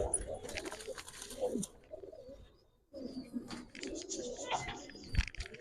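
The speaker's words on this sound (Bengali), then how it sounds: "ওই যে ডাকতেছে ওই কবুতরটা কেমন ওই যে ডাকতেছে ওই যে পিছনে" A Giribaz pigeon coos in a loft, with soft repeated throaty calls near the microphone amid other pigeon noises and a brief quiet pause midway.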